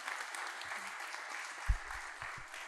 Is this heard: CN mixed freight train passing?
no